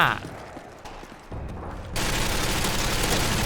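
Bursts of gunfire from Call of Duty Modern Warfare 2 crackle under a loud opening sound, then a sustained, dense barrage swells up for the final stretch.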